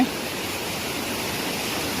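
Anantagiri waterfall pours over flat rock in the Araku valley, a constant close broadband rush of water that holds steady and alone.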